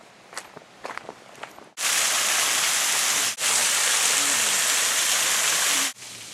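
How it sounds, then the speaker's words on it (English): Footsteps crunch briefly, then a roadside waterfall's loud, broadband rushing roar cuts in and runs steadily, with sharp breaks where it momentarily drops out. "So I've stopped off now at a waterfall along the way."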